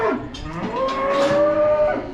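Hungry bulls moo inside a farm shed, one long sustained bellow with strong tonal harmonics stretching across the clip, loud and close, with other cattle sounds beneath it and no talking.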